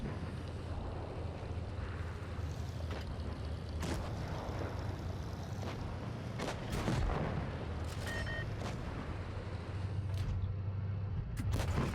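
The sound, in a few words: tank cannon fire in World of Tanks Blitz video game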